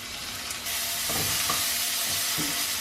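Chopped red onion and celery fry in butter and bacon fat in a pot, a steady close sizzle and hiss with a few soft stirring knocks, no voices.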